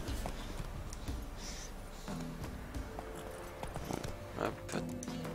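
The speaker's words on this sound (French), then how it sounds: "Donc là, on va faire spawner le cheval." A summoned horse in the video game Witcher 3 clip-clops with faint, scattered hoof steps and a snort, under quiet background sounds.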